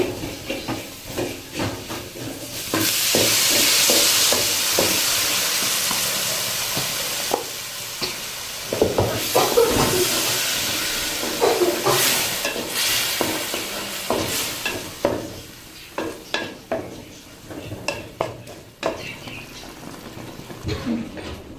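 Tamarind water poured into ginger fried golden in a pan sets off a loud, hissing burst of sizzle that eases into bubbling and repeated scraping as it is stirred.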